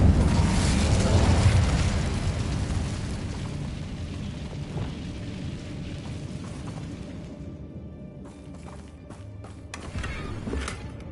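A fire spell bursts out in Hogwarts Legacy, a loud whooshing roar of flame that swells at once and slowly fades, followed by a few sharp clicks and pops near the end.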